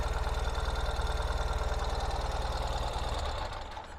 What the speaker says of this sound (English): go down to a normal idle speed once the bike is warmed up